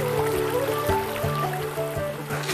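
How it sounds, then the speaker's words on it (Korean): A small stream flows along a village path in the Himalaya–Karakoram region with a continuous close babbling and splashing. Tonal hums and soft knocks sit underneath the water. "길을 따라 흐르는 작은 개울이 눈에 들어오더라고요"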